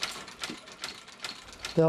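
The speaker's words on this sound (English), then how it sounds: "This sewing machine here will sew through a half-inch piece of plywood." A heavy-duty sewing machine strong enough to stitch through half-inch plywood runs in a steady mechanical rhythm of repeated clacking strokes, close and moderately loud, with a brief louder tonal sound at the very end.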